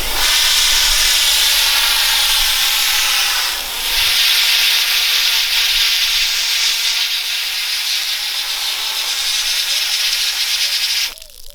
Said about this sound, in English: I got the trusty hose, which has just gone all over the camera